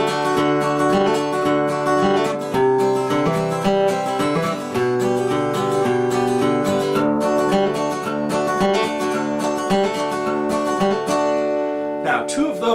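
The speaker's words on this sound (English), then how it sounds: "the chord progression to what I would label verse 2, which goes like this" An acoustic guitar plays the verse chord progression of a song, with steady, full strummed chords ringing close and alone for about thirteen seconds.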